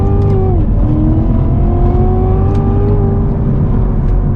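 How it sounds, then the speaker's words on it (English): Cadillac CTS-V accelerating hard from a 40 mph roll, a loud engine roar from inside the car whose pitch climbs steadily, with a brief dip at a gear change. "now we're going to do a 40 roll."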